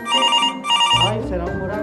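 A telephone rings during a Christmas gala stage show, two bright electronic trills followed by a melodic ringtone, close and loud.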